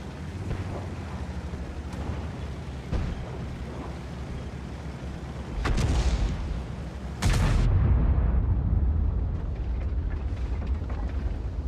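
The T30 tank destroyer's gun fires in World of Tanks, heavy booming blasts with rumbling tails heard over a low engine drone and battle ambience.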